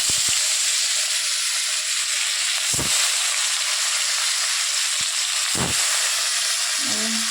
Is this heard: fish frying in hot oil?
yes